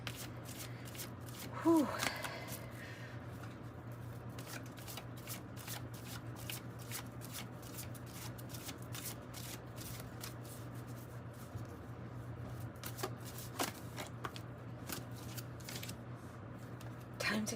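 Tarot cards shuffled by hand in a quiet room, a run of soft, rapid riffling flicks and papery slaps repeating through the whole stretch over a low steady hum, with a brief exhale near the start.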